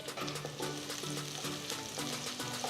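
Garlic slices and chopped red chilies fry in hot oil, a steady close sizzle throughout with faint stirring clicks and no talk.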